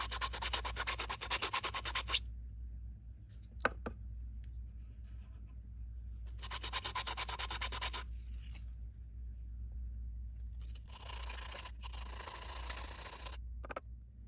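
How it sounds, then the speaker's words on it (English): Rough 120-grit sandpaper scrubbing a resin 3D print, heard in three close bursts of steady, scratchy back-and-forth strokes separated by quieter pauses with small handling clicks. "So I'm going to continue to use the really rough grit and just sort of work on that as well."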